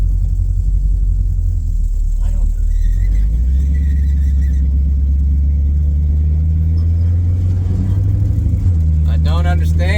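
A Plymouth Cuda's engine idles rough and uneven, a loud low rumble that surges and dips unsteadily throughout, with a voice talking over it.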